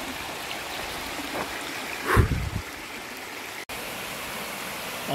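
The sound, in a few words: small creek flowing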